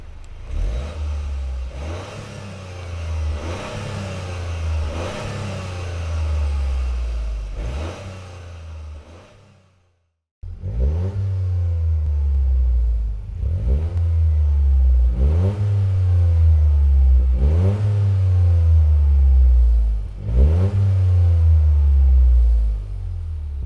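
A Toyota GR Yaris engine revving hard through a loud sporty aftermarket exhaust, repeated rising bursts with a deep rumble, broken by a brief silence partway through.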